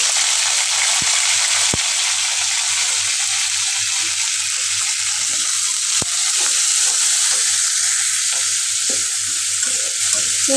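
Dried fish (shutki) fries in a pan with a loud, steady, close sizzle throughout, punctuated by a few sharp taps and repeated scraping of a spatula as it is stirred.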